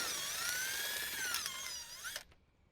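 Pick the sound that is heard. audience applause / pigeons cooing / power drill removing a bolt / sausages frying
power drill removing a bolt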